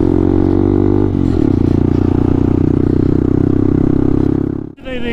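Low-power motorcycles labour up a high mountain road toward Umling La. A loud, close engine drone holds steady at a strained pitch under heavy wind rush and ends in a brief clatter.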